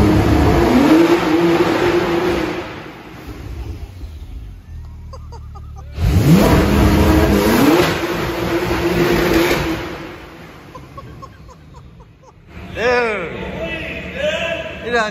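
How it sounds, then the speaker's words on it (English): A Porsche does a burnout inside an enclosed shop, the engine screaming at high revs in two long bursts with tire noise, echoing loudly, followed by a shorter rev as people talk and shout. "we have to christen the building by doing a burnout right now"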